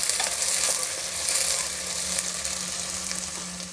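Butter sizzling in a frying pan, a steady dense crackle and hiss at close range that fades slightly toward the end, with no voices.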